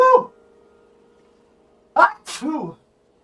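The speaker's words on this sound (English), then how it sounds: "I have to sneeze" A single sharp sneeze from a streamer, close and loud, with a brief inhaled build-up and burst near the end after a quiet stretch; a short vocal sound opens the clip.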